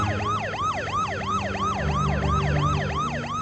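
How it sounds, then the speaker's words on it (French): Ambulance sirens wail near a crime scene in a continuous fast rising-and-falling yelp, loud and close, with a low engine rumble beneath. "Hommes et ambulances se précipitent."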